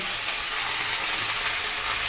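Fish and mixed vegetables with five-spice seeds fry in a pan, giving a loud, steady, continuous sizzle with no voices.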